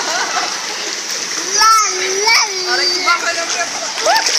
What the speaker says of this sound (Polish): O, rwąca rzeka się włączyła.